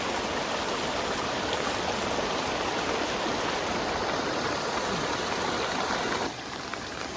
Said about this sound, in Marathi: पाण्याचा फ्लो जो आहे तो खूप वाढला आहे